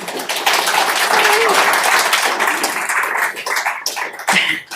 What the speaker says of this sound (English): I was going to ask you for a round of applause for Jackie, but you took it upon yourself to do that.